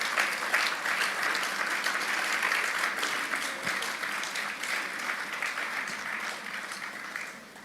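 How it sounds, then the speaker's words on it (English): Steady, dense applause from an agricultural business conference audience, sustained and fairly loud at mid distance, tapering off in the final second. "Please, can we give him a round of applause?"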